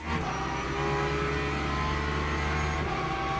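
Porsche GT3 race cars and hypercars in a Le Mans Ultimate race at Spa, a dense, steady engine roar from several cars running close together, loud and sustained without a break.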